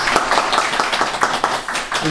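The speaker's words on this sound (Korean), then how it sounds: "박수" A church congregation in Southern California applauds during a plaque presentation at a Thanksgiving Sunday service. The clapping is steady and dense, sustained for about two seconds.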